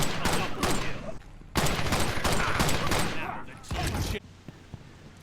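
Rapid bursts of automatic fire from the Whirlwind Premium gun in the Blitz Brigade shooter game, loud and close, in several sustained volleys separated by brief pauses.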